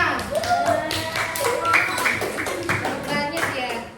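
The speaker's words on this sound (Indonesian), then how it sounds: "Tepuk tangan buat Mbak Bintang." Students in a primary school classroom clap for a classmate, an uneven patter of hand claps mixed with children's voices talking over it.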